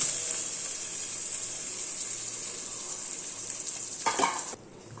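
Peanuts frying in a pan of hot oil while a brinjal masala curry is prepared, with a steady, close sizzle running throughout and a short burst of stirring near the end.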